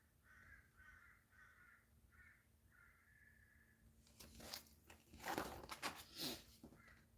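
Several harsh crow caws in a quick series, faint and distant, followed by louder rustling and crunching close by.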